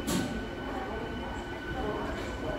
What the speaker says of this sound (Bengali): 4:55তেই ট্রেন ছাড়ল।